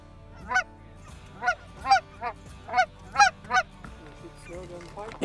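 Snow geese and speckled-belly geese honk in still, foggy air during a waterfowl hunt. Around ten distinct, clear calls come in an uneven series at moderate distance over a quiet background.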